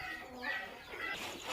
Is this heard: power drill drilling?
no